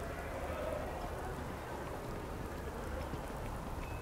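Steady rain falling across the city of New Atlantis in the game Starfield, a constant dense hiss with scattered patter, even in loudness throughout and with no voices over it.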